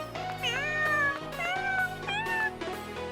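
Kittens meow in short, high, wavering cries, several overlapping calls close by with brief pauses between them.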